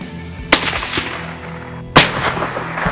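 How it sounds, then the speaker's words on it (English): A rifle shot fired at a muntjac doe while deer stalking: two sharp, loud cracks about a second and a half apart, each with a short echoing tail, over quiet outdoor background with no talk. "It's a good shot and the doe drops on the spot."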